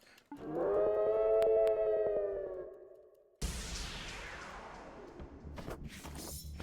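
In the video game Small Saga, a prison captain summons a dog with a loud, rising howl-like call that fades, followed by a harsh noisy burst and scattered clatter.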